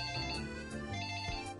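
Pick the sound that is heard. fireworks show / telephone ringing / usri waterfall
telephone ringing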